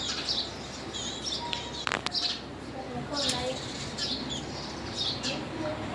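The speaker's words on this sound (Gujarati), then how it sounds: "સકલા કલબલાટ કરી રહ્યા છે" Sparrows chirp and twitter in busy, overlapping bursts close by, with a couple of sharper calls standing out from a soft outdoor background.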